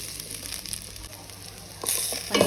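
Ginger garlic paste and masala frying for chicken pulao, a soft close sizzle with faint stirring scrapes that grows louder toward the end.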